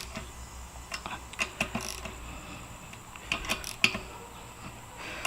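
A hand ratchet tightens bolts on a gasket cover in short bursts of sharp metallic clicks, close and moderately loud, with pauses and small handling knocks between strokes.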